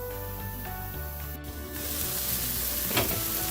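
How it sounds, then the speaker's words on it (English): A beef burger patty sizzles and chars in a hot pan, a steady, close frying hiss that continues throughout and builds slightly toward the end, with no talking. "We're going to char it on the other side for a minute before we add the slices of cheddar cheese on."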